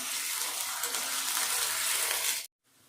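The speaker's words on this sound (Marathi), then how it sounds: "हा उकडून घेतलेला बटाटा नाहीये कच्चा बटाटा आहे तो मी तेलामध्ये आता तळून घेणार आहे" Raw potato fries in hot oil, giving a steady close sizzle that cuts off abruptly near the end, leaving quiet background.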